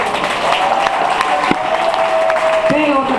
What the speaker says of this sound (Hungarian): Alapjáraton szeretnék egy baromi nagy tapsot kérni mind a négyüknek.